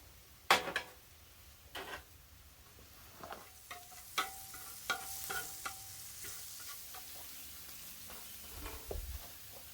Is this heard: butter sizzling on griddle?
yes